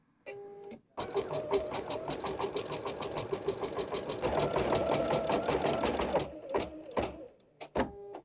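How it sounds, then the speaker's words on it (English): A Bernette b79 embroidery machine stitches a design with fast, even mechanical clatter at close range, starting after a short beep and ending with a few more beeps and clicks. "and now we're ready to embroider"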